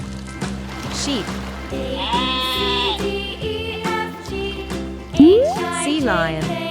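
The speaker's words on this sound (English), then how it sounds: "Sheep." A sheep bleats in a children's animal-naming setting, its wavering cries set against steady background music that plays throughout.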